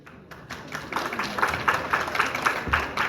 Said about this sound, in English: we also have some more experienced players in here that deserve a round of applause too